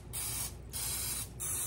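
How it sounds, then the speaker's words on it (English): Cooking oil sprayed from a spray bottle onto baked chicken salad rounds: three close hissing bursts, the first two short and the last longer, with no talking. "I'm going to spray me a little oil on them"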